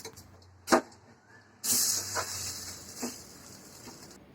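Dosa batter hits hot oil on a pan and bursts into a steady bright sizzle that holds close and loud for a few seconds after a brief clatter.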